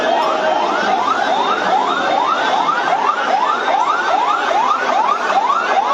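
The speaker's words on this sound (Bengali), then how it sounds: "ফায়ার সার্ভিসের লোক আসতেছে হবে।" Fire service vehicle siren arriving at a restaurant fire, a loud, close wailing siren rising and falling in quick, regular sweeps without pause.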